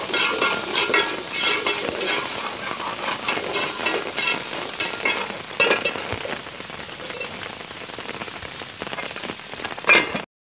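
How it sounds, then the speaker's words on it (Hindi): Onion and ginger-garlic paste sizzle and crackle in hot fat, with occasional scraping stirs, close and continuous until it cuts off. "इनको अच्छी तरह से भून लेंगे।"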